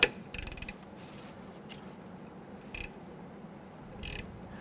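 Wrench loosening a brake line fitting on a 2011-2021 Jeep Grand Cherokee, heard as three short bursts of metallic ratcheting clicks spread over a few seconds against a quiet background.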